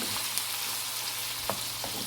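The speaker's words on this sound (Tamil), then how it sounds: "இப்போ தக்காளியை நல்லா ஒரு 2 நிமிஷம் பக்கம் நல்லா வதக்கி விட்டுக்கலாம்." Tomatoes sauté in oil in a pan for a tomato chutney, giving a soft, steady sizzle. A few small pops and stirring clicks sound close by, and nobody speaks.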